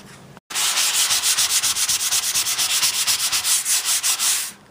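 Steady sanding of body filler on an antique Hallicrafters R-46 speaker, outdoors in chilly weather, with a rapid rhythmic back-and-forth rasp that runs close and loud for several seconds after a brief pause.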